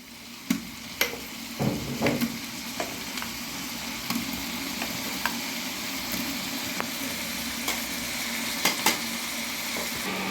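Ginger garlic paste and garam masala powder sizzle in a hot pan for Mandya-style chicken biryani, a steady crackling fry punctuated by sharp clicks and scrapes of stirring, close and even throughout.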